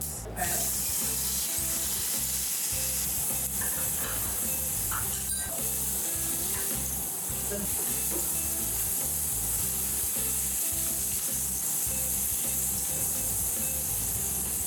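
Garlic paste, Kashmiri chili powder, haldi and curd sizzle steadily in hot oil, with continuous loud frying hiss and occasional stirring scrapes throughout.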